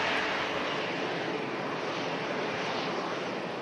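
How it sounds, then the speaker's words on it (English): A jet airliner taxis out at Manchester Airport, bound for Fuerteventura, giving off a steady, loud broadband engine roar and whine with no breaks or voices. "Aircraft heading out to Fuerteventura in the Canary Islands"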